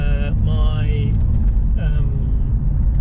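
A Porsche 911 on a supermarket drive gives a steady low engine and road rumble throughout, heard from inside the car, with a few faint tonal whines over the top and no talk.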